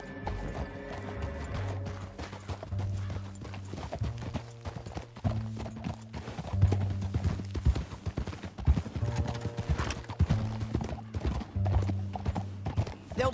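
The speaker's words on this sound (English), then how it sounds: "Back on your horse. Let's get after them." Horses galloping in Red Dead Redemption 2: rhythmic clip-clop of hooves at speed with a neigh, set against sustained tonal game music.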